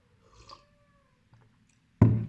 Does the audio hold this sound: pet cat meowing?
yes